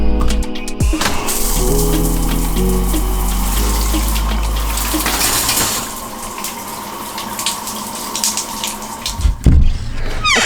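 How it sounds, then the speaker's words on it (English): A shower runs steadily in a continuous loud rush of water, with a brief clunk at the start and a change in flow near the end. "I'm gonna go head over to the showers."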